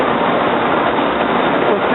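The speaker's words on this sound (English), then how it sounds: "Here we got New Jersey Transit train" New Jersey Transit train 4673 bound for Atlantic City, hauled by engine 4214 at 30th Street station, rolls past with a steady, dense rumble and rush of wheels that holds constant and close throughout.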